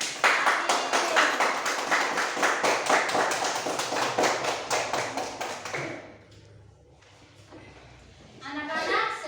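Children in an Indonesian classroom clap in a quick, rhythmic burst of many hands for about six seconds, then fade out, with a voice briefly audible near the end.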